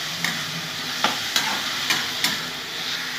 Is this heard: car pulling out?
no